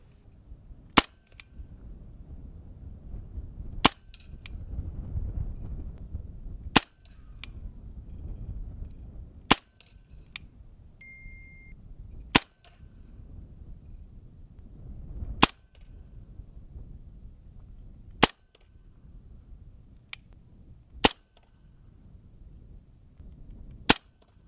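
A Hatsan Blitz full-auto air rifle fires nine sharp, isolated cracks, spaced about three seconds apart. Each shot is loud and close, with only faint low background noise between them.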